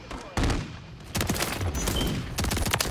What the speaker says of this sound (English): I'm shooting at everything